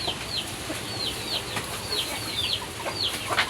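Chickens in a coop bedded with rice hulls give repeated high, quick peeps and clucks, scattered across a steady background hiss at moderate loudness.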